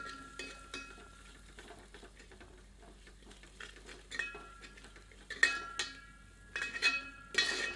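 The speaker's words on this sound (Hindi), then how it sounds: "सबको मिलाकर कुछ क्षण भूनते हैं।" Ground red chili and Kashmiri chili roast in a pan while a metal spoon stirs and scrapes, with soft sizzling and sharp clinks against the pan growing louder toward the end.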